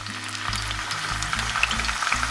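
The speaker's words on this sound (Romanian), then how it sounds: "continui la fel cu prăjirea celorlalți care mi-au rămas" New potatoes fry in hot oil in a cauldron, a steady close sizzle with bubbling crackles, broken by a few low knocks as pieces are stirred and turned.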